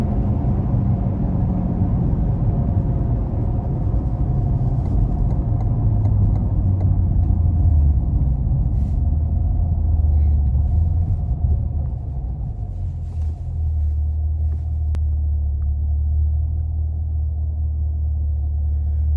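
A 2022 Chevrolet Corvette C8 Convertible 3LT Z51 rumbles steadily while being driven, its deep engine drone loud and continuous with shifting pitch as speed changes, and no talking over it.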